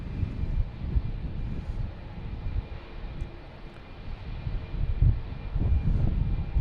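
An Aeromexico airliner takes off on runway 27 at Boston Logan Airport, a steady low engine roar heard from a distance that swells and rumbles unevenly throughout, with no voices.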